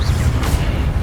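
A Confringo spell blast in Hogwarts Legacy, a short loud boom with a whooshing burst over a dense low rumble.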